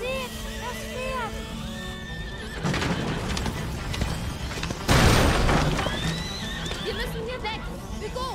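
Horse whinnies and neighs with clattering hooves in the medieval video game A Plague Tale: Innocence, heard amid loud crashes and booming game action, with several neighs close by.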